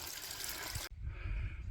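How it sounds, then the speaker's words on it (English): A mountain stream runs on the fellside near Birkhouse Moor above Ullswater, a close, hissing rush of water that cuts off abruptly midway and leaves a low wind-like rumble. "I heard this running water and we had to go for it."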